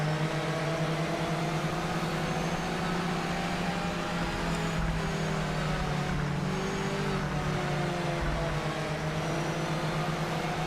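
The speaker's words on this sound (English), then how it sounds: "I'm not so enamoured with the sound of the MX-5 as I was with the Aston" Mazda MX-5 engine in the Project Motor Racing simulator, a steady droning hum holding at a constant pitch with slight tonal shifts, loud and continuous throughout with no talk.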